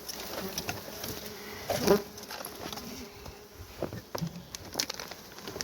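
Honey bees buzzing at night while a colony is moved into another hive, a faint, steady insect drone with scattered soft knocks and rustles and one slightly louder bump in the middle.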